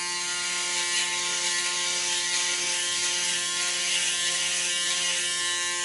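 A Braun 7865cc electric shaver buzzes steadily as it shaves against the grain, a constant close mechanical hum and whir with no pauses and no talking.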